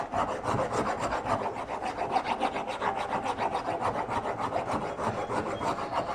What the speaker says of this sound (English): I put it in this vise so that I can take a rasp and put these gloves on and roughen up the surface some